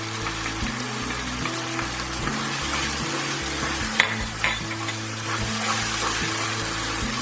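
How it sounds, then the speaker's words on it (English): Ginger and garlic paste fries with softened tomatoes in a pan, giving a steady broadband sizzle with a low hum beneath, broken by a couple of brief clinks or stirs near the middle; no voices. "Just cook your ginger and garlic for about 2 minutes."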